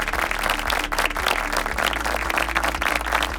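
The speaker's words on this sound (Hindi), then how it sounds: "तो जोरदार तालियां हो जाए mister Biju P Thomas and JC Biju Thomas के लि" A crowd applauds loudly and continuously at a family Bible quiz competition, a thick steady clatter of many hands clapping throughout.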